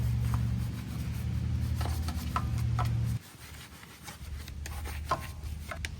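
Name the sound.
brushing Plasti Dip onto van alloy wheel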